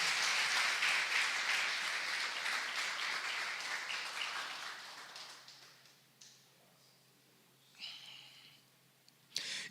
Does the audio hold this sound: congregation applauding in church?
yes